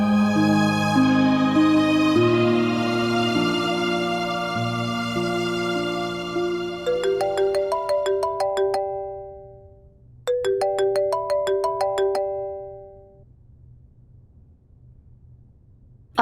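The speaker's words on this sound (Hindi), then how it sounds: "आज मेरे फोन पे सिकंदर ने कॉल किए।" A mobile phone ringtone from an incoming call in a Pakistani drama scene: a bright, beeping melodic tune plays twice with a short gap, following softer background music.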